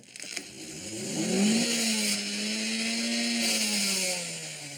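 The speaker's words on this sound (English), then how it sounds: "When you hear the engine going, it's angry." A car engine revs up hard, its pitch climbing and holding at a strained high whine before settling slightly.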